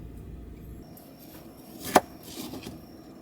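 A cheap 100-yen shop kitchen knife cuts through a pear, giving one sharp, close chopping knock against a quiet room background with a few faint rustles after it.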